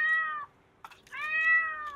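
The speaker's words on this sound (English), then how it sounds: "Now today, as we hear cats." Two long, plaintive meows from a cat somewhere outdoors in a Japanese neighborhood, fairly close, with a brief scuff between the calls.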